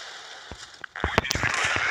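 A loud tank cannon blast from the video game World of Tanks, followed by sharp bursts and crackling debris, ringing out over a steady background hum.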